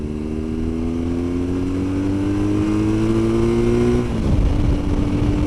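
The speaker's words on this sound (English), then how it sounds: "Definitely got a nicer sound with that exhaust." A BMW R1200 GS 30th Anniversary motorcycle with an aftermarket exhaust being ridden, its engine droning and rising steadily in pitch before shifting down, loud and continuous with wind noise and no talk.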